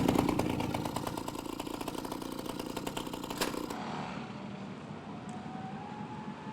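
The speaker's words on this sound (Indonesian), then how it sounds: "mesin motornya sudah nyala" A motorcycle engine idles close by, a rapid steady chugging that cuts off partway through and leaves a quiet background.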